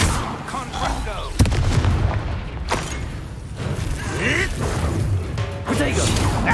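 Confringo, the explosive fire spell, is cast during a wizard duel in the video game Hogwarts Legacy. A sharp blast lands near the middle amid other booming impacts and spell effects, with voices shouting over the combat.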